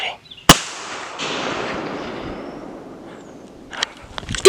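A single loud shotgun blast during a wild turkey hunt in eastern North Carolina, a sharp nearby report followed by a long rolling echo that fades over several seconds, with faint rustling near the end.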